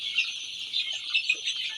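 Seventeen-day-old Sonali chicks on a poultry farm keep up a steady, high chorus of peeping and soft clucks, moderately close, with no talking.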